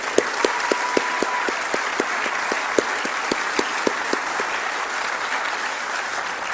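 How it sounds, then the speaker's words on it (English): Audience applause for a humanitarian award recipient, a dense wash of clapping with several crisp individual claps standing out near the microphone, steady for several seconds. "Let's give Jeff a round of applause."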